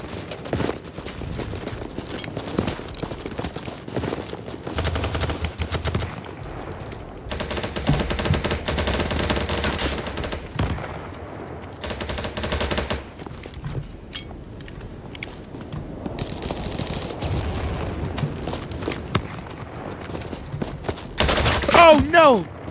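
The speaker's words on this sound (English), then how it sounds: "someone's shooting at us" Rapid gunfire bursts rattle through a BattleBit match, dense volleys coming and going over about twenty seconds, with a player talking over the shooting.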